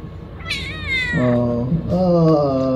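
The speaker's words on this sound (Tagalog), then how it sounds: "Mga lakwatsere, mga pusa na yan eh." Cats meow loudly and close by, two drawn-out rising and falling cries one after another, with faint room noise behind them.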